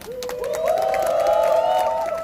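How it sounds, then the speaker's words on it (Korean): An audience welcoming a student council president to the stage at a student assembly, with a steady wash of crowd noise and rising vocal whoops and cheers held for about two seconds. "큰 박수 부탁드립니다"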